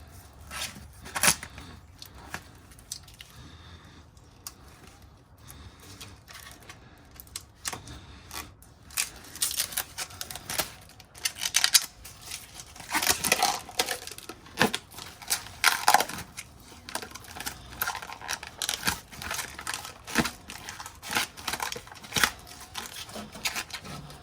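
Clear protectant film gets peeled off a Jeep Wrangler JK exhaust part, a run of crackly ripping and crinkling bursts that grows busier and louder midway, heard close up with no talk.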